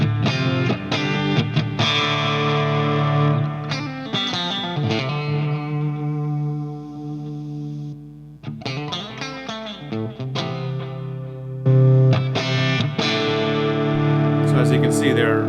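Electric guitar through a Line 6 Helix Bright amp model, played with compression: strummed chords and riffs with distortion and chorus-like shimmer, ringing and decaying between phrases, loud and close.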